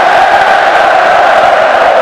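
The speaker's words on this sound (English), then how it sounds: "you can hear ole ole ole, the crowd starting to celebrate" A rugby stadium crowd in full voice, celebrating with an "ole, ole, ole" chant that rolls on as a dense, loud, steady wall of sound from start to finish.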